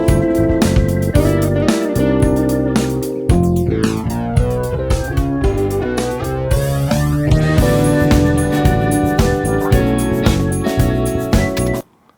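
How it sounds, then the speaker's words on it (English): Full 70s-inspired rock mix with a flanger effect sweeping through it, giving a jet-like whooshing comb sweep over drums, guitars and cymbals, loud and continuous before stopping abruptly at the end. "this flanger effect might be a cool idea"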